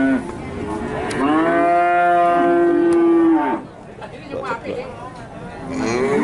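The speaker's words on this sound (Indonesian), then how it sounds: "jenis sapi Limusin Brahman Simmental" Cattle at a livestock market, Limousin, Brahman and Simmental breeds, letting out a loud drawn-out moo that dominates the first few seconds, then fading into background crowd chatter before another low call begins.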